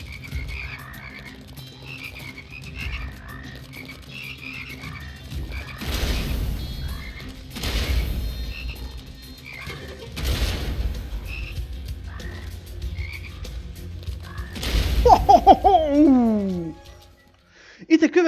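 Frogs croak repeatedly in the first-person shooter Immortal Redneck, steady pulsing calls running underneath someone talking, broken by several loud gunshot-like blasts and a warbling sweep near the end.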